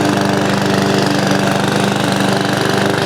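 An inexpensive Amazon Smartpower lawn mower runs steadily and loudly up close on an overgrown lawn, a continuous motor drone with a fast, even pulsing rhythm throughout.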